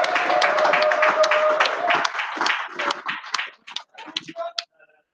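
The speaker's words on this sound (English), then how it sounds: "give him a big round of applause" Applause for a darts player at a Perth Premier League night rings out as dense crowd clapping, strong at first and then thinning into scattered claps before fading out.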